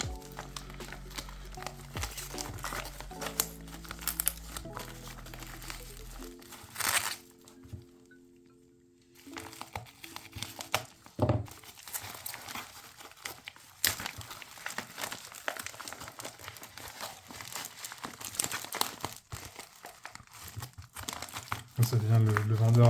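A Pokemon card delivery package being opened, with crinkling and rustling of wrapping and cardboard handled up close, under a French-speaking voice.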